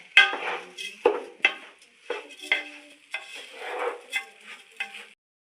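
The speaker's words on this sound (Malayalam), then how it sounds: "ഈ അരി ചൂടാവുന്നത് വരെ നമ്മൾ ഇളക്കി കൊടുക്കണം" Raw rice stirred with ghee in a pan, a run of irregular scraping and rattling strokes of a spoon against the pan with light sizzling beneath, close and fairly loud, no voices.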